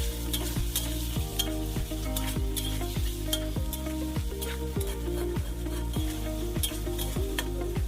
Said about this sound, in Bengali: আদা রসুনের পেস্টটাকেও ভালো করে ভেজে নেব